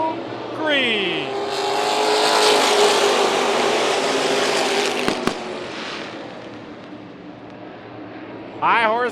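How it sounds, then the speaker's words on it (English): Modified race cars with high horsepower and small tires scream past at Tucson Speedway, a loud sustained engine roar with rising and falling pitch sweeps as cars pass close by, a brief sharp crack midway. "High horsepower and small tire racing machines duking it out"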